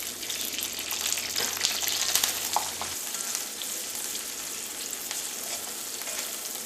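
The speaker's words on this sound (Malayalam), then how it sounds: "ഇനി നമുക്ക് ചൂടായ വെളിച്ചെണ്ണയിലേക്ക് ഏറ്റവും ആദ്യം നമുക്ക് വേപ്പിൻ്റെ ഇലയും നമുക്ക് ചതച്ചെടുത്ത ചുവന്നുള്ളിയും വെളുത്തുള്ളിയും ചേർക്കാം" Curry leaves, crushed shallots and garlic hit hot coconut oil, giving a loud, steady sizzle with a few stirring scrapes. The sizzle drops slightly partway through and then settles into a constant crackle.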